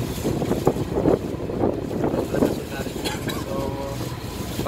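Strong wind buffets the microphone in heavy, uneven gusts on a boat in strong current, with the rush of water and a boat motor underneath and voices faintly audible.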